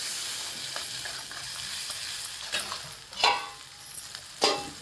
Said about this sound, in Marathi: हळद अर्धा तेलामध्ये परतून घ्यायचं.